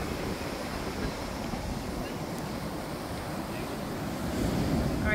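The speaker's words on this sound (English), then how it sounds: "The tide is coming in. Let me show y'all. It's coming all the way into here now. The waves are crazy." Incoming tide waves wash up a Barbados beach, a continuous broad roar of surf with wind buffeting the microphone, swelling slightly louder toward the end.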